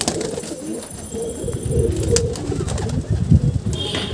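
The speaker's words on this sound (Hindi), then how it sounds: "ये कबूतर पकड़े हमने जंगली," A wild pigeon coos in low, soft, throaty murmurs close by, repeating against light background noise.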